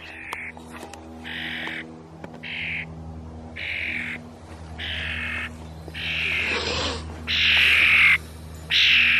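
A pet bird calling from a house roof, repeated harsh squawking calls in regular bursts that grow louder toward the end, over a low steady hum.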